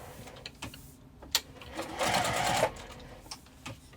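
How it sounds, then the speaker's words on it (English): Sewing machine stitching down the sides of bag strap connectors on a crossbody bag, a steady whirring burst of about a second near the middle, set among soft handling clicks and taps. "Now I'm just going to sew down each side."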